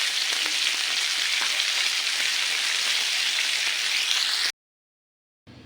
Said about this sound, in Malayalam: മീൻ നന്നായി ഫ്രൈ ആയിട്ടുണ്ട്.